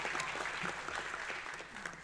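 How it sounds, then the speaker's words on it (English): A room of people clapping at the Student-Athlete Gator Awards ceremony, a brief, fairly faint patter of applause heard from a distance with no voices over it. "round of applause"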